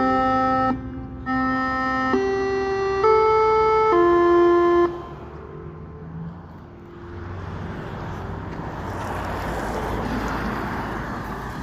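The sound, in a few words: daily tsunami warning alert siren test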